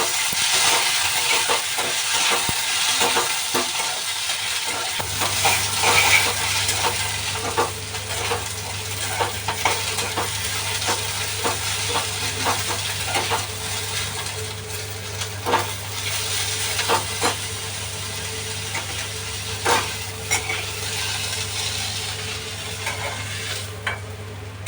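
Ginger and garlic sauté in a pan with roasted coconut, a steady close sizzle and hiss broken by frequent scrapes and taps of a spoon as it is stirred, with no voices.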